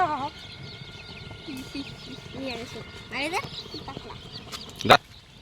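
Small dyed, colourful chicks chirp with repeated high peeps and short trills. Some are close and some are further off, over a soft background hum, with a sharper burst near the end.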